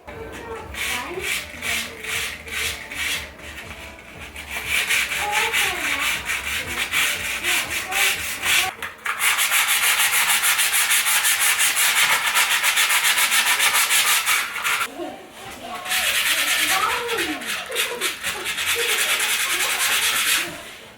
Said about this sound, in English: after I'm done with the sanding, I'll finally be able to paint the walls